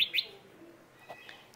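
A white red-whiskered bulbul gives a couple of quick, bright chirps at the start, then fainter calls follow in a quiet indoor setting.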